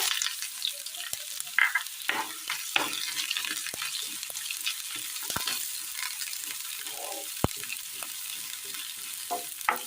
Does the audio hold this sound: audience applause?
no